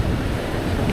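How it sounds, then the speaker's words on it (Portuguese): Strong wind buffets the microphone at Praia Brava beach in Florianópolis, a loud steady low rumble with surf noise mixed in. "com esse vento agradável, refrescante e até um pouco mais forte"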